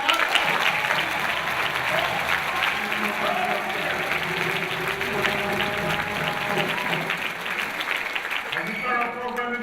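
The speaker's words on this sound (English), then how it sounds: "Go ahead and clap." An audience at a school district convocation applauds loudly and continuously, a thick crowd of clapping with some cheering and voices mixed in underneath.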